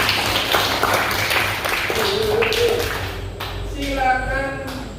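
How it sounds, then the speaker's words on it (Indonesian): Classroom students applauding a classmate, a busy patter of clapping that fades partway through, followed by voices and a teacher speaking. "beri tepuk tangan buat Sigit."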